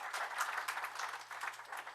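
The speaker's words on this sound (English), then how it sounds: "she always deserves a round of applause" A small crowd at a public information meeting claps in a brief, faint burst of applause, steady and scattered, with no voices standing out.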